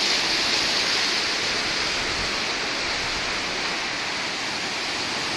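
The Lašva river is in flood and rushing past in a loud, steady roar of water. The broadband noise stays at the same level throughout and no one speaks.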